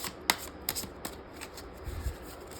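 Tarot cards shuffled for a reading: a series of crisp, close riffling and slapping bursts in an irregular rhythm, with soft thuds between them and no talk.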